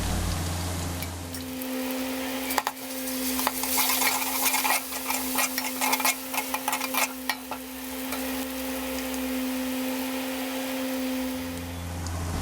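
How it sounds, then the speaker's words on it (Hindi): Ginger garlic paste fries with browned onions in a pan, giving a steady sizzle with scraping stirring strokes over a constant background hum. "प्याज हल्के से ब्राउन होने के बाद 1 चम्मच अदरक लहसुन पीसा हुआ डाल देंगे और अच्छे तरीके से फ्राई कर लेंगे"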